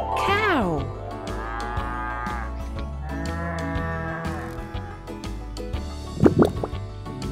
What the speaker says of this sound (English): Small horns and a sound that goes moo.